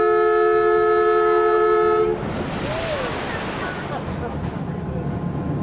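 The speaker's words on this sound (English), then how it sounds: "Here we go with a big splash." An amphibious Boston duck tour boat plunges off a ramp into the water, a sudden loud splash and rushing churn following a steady engine drone, with water wash continuing after.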